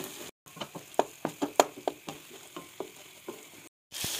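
A spoon stirs fried tomatoes and green chilies into spice masala in a pan for egg magaz, making a series of distinct scraping taps in an uneven rhythm over a soft sizzle, close and moderately loud.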